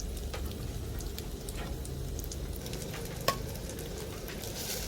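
White clams from Satun frying over a gas flame for a Thai omelette, a close, steady crackling sizzle with scattered pops and one sharp spatter near the end.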